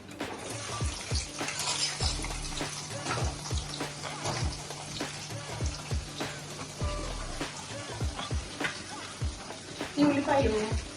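Onions frying in hot oil with cloves and cinnamon for a bachelor-style chicken recipe, a steady close sizzle and crackle with occasional stirring clatters, under a speaking voice.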